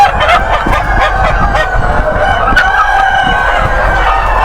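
Chickens cluck and crow in a dense, overlapping flock on a Lohmann parent stock poultry farm, with a rooster call standing out among constant close clucking.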